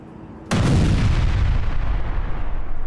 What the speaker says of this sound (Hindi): ये देखिए तस्वीरें, ईरान में बमबारी और किस तरीके से इजराइल में धमाके हुए।